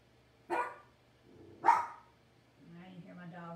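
A dog barks twice from inside a kennel, two loud sharp barks about a second apart, followed by a softer low whine or muffled sound.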